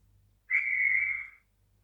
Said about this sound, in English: F10 is the guard's whistle.